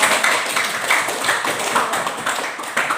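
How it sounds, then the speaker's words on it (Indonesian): A classroom group claps for a student, a brisk and fairly loud patter of hands that lasts about three seconds, with no voices over it. "Beri tepuk tangan buat"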